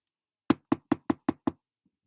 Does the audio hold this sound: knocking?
yes